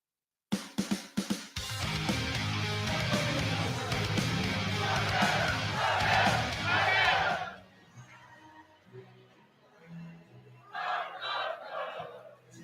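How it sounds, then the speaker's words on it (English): Baseball crowd at a Navigators versus Suns ball game cheering loudly and steadily for several seconds in the late innings, then dropping to a quieter murmur with a brief second swell near the end. "This crowd really getting into this ball game"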